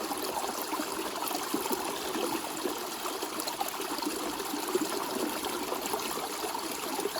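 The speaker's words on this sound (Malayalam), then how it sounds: "വെള്ളത്തിന് ഇവിടെ ഒരു ഉറവിന് ഒരു കുറവില്ല കേട്ടോ." Spring water flows steadily beside a treehouse in elephant country, a continuous broadband rush and trickle that holds at an even moderate level throughout, with no voices.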